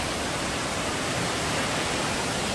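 Steady broadband rush of a mountain stream flowing over rocks near a cliff-cut trail, loud and continuous with no voices.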